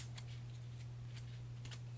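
Playing cards being shuffled by hand at a tabletop game session, producing a few short, crisp riffling bursts at close range over a steady low hum, with no talking.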